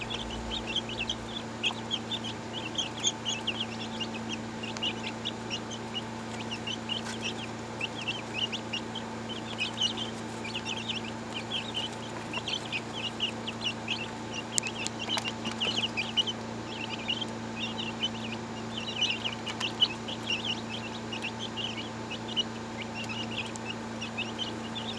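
Hens cluck and murmur steadily in the background, a busy low chatter of several birds over a constant hum, with occasional sharper calls.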